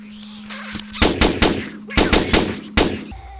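Shotgun slug blasts from the 7 Days to Die video game: four loud, sharp booming shots spaced about a second apart, each with a short ringing tail, over a low steady hum.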